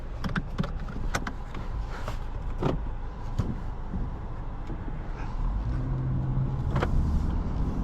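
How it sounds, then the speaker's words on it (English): A 2024 Honda Civic Sport hatchback driving on the road, heard from inside as a steady low road and engine rumble with scattered clicks and knocks from the cabin, no talking. "let's get this car on the road and see how it drives"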